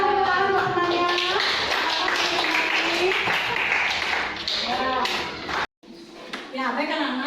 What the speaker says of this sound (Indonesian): Kita tepuk tangan untuk pembelajarannya.